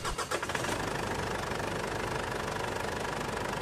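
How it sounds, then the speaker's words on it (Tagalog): A Ford Everest engine cranks briefly after an oil change, then catches and settles into a steady, close, clattering idle. "Tapos, start ko na itong makina."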